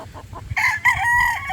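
A gamecock stag, one of several tied up, crows once, loud and close, after a few soft clucks.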